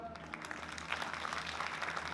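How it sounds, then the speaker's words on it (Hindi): A studio audience at a reality show taping claps together, a faint, even spatter of applause over a low background hum. "जरा मुंह में फंसाओ और ताली बजाओ एक बार जोरदार"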